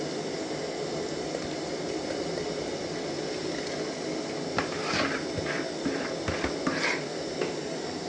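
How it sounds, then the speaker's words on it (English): Groundnut paste poured into a pot of simmering kunu water, a steady bubbling liquid hiss throughout with a few soft splashes and clinks toward the end, close and moderately loud. "I will pour my groundnut paste in it."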